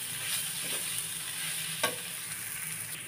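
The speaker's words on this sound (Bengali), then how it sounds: "এভাবে কন্টিনিউ নাড়াচাড়া করে নিতে হবে" Fish tail mash being stirred in a pan with a little oil, a steady soft scraping and faint sizzle throughout, one sharper clack of the spoon near the end, no voices.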